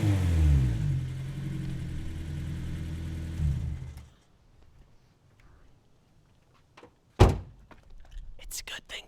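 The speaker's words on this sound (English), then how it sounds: "Let's get y'all a tiny little sound clip of how good this S2000 sounds." Honda S2000 engine, warmed up, revving steadily for a few seconds before cutting off, followed by near silence, a sharp thunk like a door and faint scattered handling noises.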